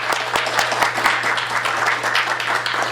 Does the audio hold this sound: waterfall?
no